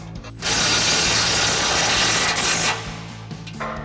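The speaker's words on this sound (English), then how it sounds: "we'll go ahead and start by tightening down our rear mounting bolts. So we'll grab our 13mm socket on our impact and a 13mm wrench." An impact wrench with a 13mm socket hammers down rear mounting bolts on a Body Armor 4x4 Ambush XT front bumper on a 2010-2018 RAM 2500, with one loud, rattling burst of about two seconds, close up and alone.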